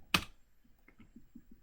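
A computer keyboard clacks: one sharp, loud keystroke followed by a run of softer, evenly spaced key taps close by in a quiet room.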